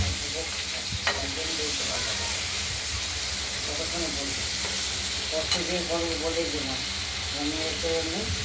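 Katoa stalks fry and get stirred in oil in a pan, a constant sizzling hiss with soft scraping, while a voice talks intermittently over it.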